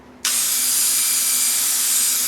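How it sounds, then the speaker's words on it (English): A rotary tool's cutoff wheel cutting brass handrail wire for an HO scale Bachmann U36B model starts suddenly after a brief quiet moment. It then holds a loud, steady, high-pitched whine close to the listener. "So let's take the cutoff wheel here."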